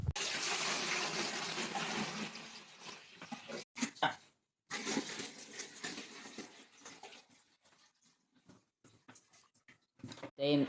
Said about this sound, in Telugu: మనమైతే ఇందులో ఇప్పుడు నెక్స్ట్ వాటర్ని అయితే ఫిల్ చేద్దాం.